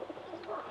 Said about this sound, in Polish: to są moje najlepsze gołębie na następne lata